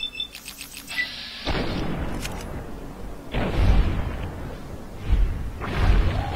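Gunfire in a video game, heard as several loud booming shots spaced a couple of seconds apart, each blast followed by a decaying rumble, with no talking.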